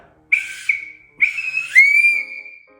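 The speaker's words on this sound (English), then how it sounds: "if you blow a little, it doesn't do much. You gotta blow really hard." A plastic safety whistle is blown hard in short bursts, first two quick blasts, then a longer, piercing toot that rises in pitch and holds.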